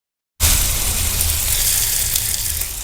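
Onion and tomato masala for egg curry roasting in a hot pan, a steady close loud sizzle that starts abruptly and holds an even crackling hiss to the end.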